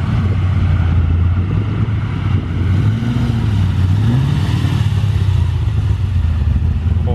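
Loud, rumbling classic car engine at a Rockhampton car meet in Central Queensland, idling then revving with a pitch that rises and falls, heavy low drone up close with wind buffeting the microphone, no talking.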